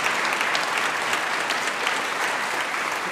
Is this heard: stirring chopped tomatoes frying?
no